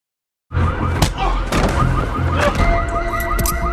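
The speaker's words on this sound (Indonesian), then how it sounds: "Yang saat terdengar bunyi alarm mobilnya, si Frank pun keluar dan memeriksanya." A car alarm blares continuously with a repeating warbling siren pattern, loud and close, starting abruptly after a brief silence, with occasional thuds mixed in.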